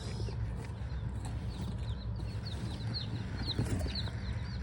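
Baby chicks from a hatchery peep in high, thin chirps inside their shipping box, repeated faintly in short bursts over a low background rumble.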